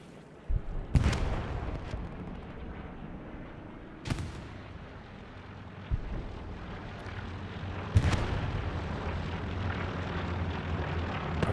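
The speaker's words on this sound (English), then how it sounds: "Artillery strikes now landing around the hard camp as well" Artillery strikes landing in Hell Let Loose: several heavy blasts spaced a few seconds apart, each a sharp crack trailing into rumble, over a steady low drone of distant battle with no talking.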